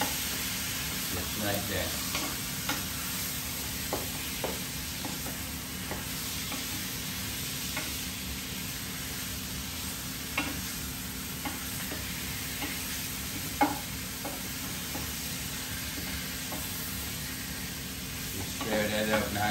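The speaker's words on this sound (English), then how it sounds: "Stir that up nice and good. As you see, that's getting nice and brown" Pork browns in a Power XL electric cooker, giving a continuous close sizzle with intermittent scraping and clacking as a utensil stirs the meat; someone talks briefly over it.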